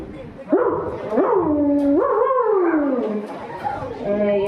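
A person's voice imitates a dog up close at a school inter-house cultural competition, producing rising yips and drawn-out whining howls in a short run.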